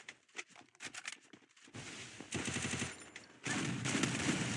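Rapid shotgun and automatic gunfire bursts in the Free Fire mobile battle game, starting as scattered sharp shots and building into dense, continuous firing near the end.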